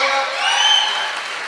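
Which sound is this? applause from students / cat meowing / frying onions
applause from students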